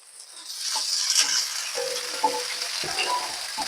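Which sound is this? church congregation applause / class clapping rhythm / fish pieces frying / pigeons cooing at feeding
fish pieces frying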